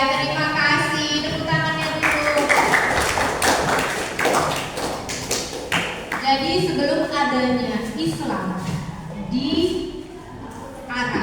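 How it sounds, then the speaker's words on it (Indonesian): A classroom of students claps together, a burst of quick, close hand claps and taps heard over children's voices and chatter that carry on as the clapping tails off. "Tepuk tangan"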